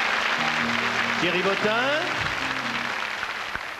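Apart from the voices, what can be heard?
studio audience applause on radio show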